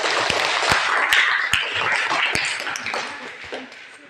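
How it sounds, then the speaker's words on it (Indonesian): Students in a classroom applaud a group after its presentation, a burst of many hands clapping with sharp individual claps standing out, loud at first and thinning toward the end. "kita beri tepuk tangan untuk kelompok"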